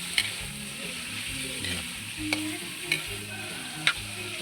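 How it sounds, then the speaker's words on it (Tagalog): Food being stirred in a cooking pot over a steady low sizzle, with a utensil scraping and occasionally clicking against the pot at irregular intervals, close up and with no talking. "Ngayon haluin natin."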